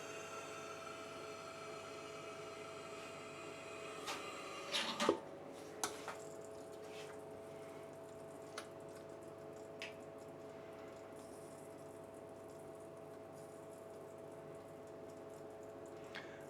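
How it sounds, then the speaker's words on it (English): A DuoFiller automatic can filler runs with a steady mechanical hum as liquid fills a can until foaming, brief squishing and dripping bursts standing out early over the constant drone, with no talking. "And now we will fill until the foam is over the top of the can."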